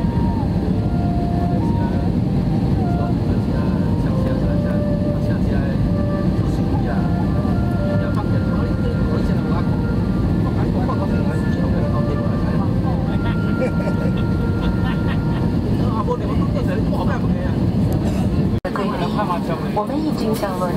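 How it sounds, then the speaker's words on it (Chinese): Airplane cabin just after landing at Hanoi's Noi Bai airport, with a steady loud engine and air-handling rumble filling the clip, plus faint voices and a brief shift near the end. "我们已经降落在河内内排国际机场了。"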